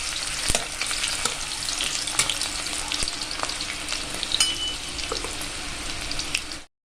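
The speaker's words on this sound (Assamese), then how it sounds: "পিঁয়াজখিনি অলপ ভাজি লওঁ" Onions frying with bay leaf in a pan for an egg and mushroom curry, a steady loud sizzle with scattered crackles and pops throughout and no talking.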